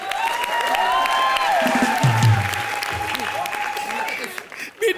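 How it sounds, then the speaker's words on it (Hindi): A studio audience on a comedy show claps and cheers in a burst of applause, with voices talking over it. "तो जोरदार तालियां हो जाए राखी सावंत की माँ के लिए।"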